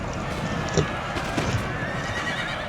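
Cavalry of the Horse Guards charge in the Napoleon Total War battle game, with horses whinnying and hooves clattering amid a dense roar of battle noise, a few sharper neighs standing out over the din.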